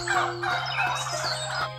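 Rapid turkey gobbling, a bubbling warble of calls repeated several times, fairly close and loud, with a steady low hum underneath.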